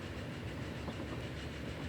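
Train running on rails in the Transport Fever game, set in the Alps mountains, a continuous dense rolling rumble with faint clickety-clack, steady and fairly quiet, with no talk.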